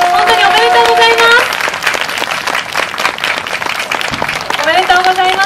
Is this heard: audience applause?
yes